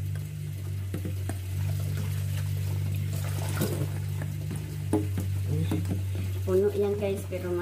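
Saluyot paksiw cooking in a casserole, a steady low hum with stirring and faint sizzling or bubbling throughout, and a voice briefly speaking near the end.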